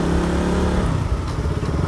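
A KTM Duke 200 motorcycle on a daily ride, its engine droning loud and close with a steady low hum that shifts into rougher, fluttering engine and wind noise partway through.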